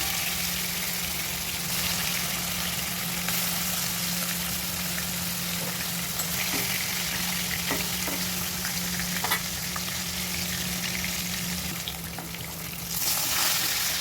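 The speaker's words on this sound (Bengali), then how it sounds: "এবার মাছগুলো আমি একটা একটা করে ভালো করে ভেজে নেব" Fish pieces rubbed with salt and turmeric fry in hot oil, giving a loud, steady sizzle with occasional crackles and spatters. A low hum runs beneath it throughout, and no one speaks.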